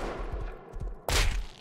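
Semi-automatic rifle fire in the survival game Rust: several dull, distant low thumps in an irregular rhythm, then one louder, sharper burst near the end, with no talking.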